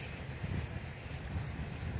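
A Norfolk Southern intermodal freight train rumbles along the tracks near Binghamton, a steady low rolling roar with faint clatter of wagons, heard from nearby.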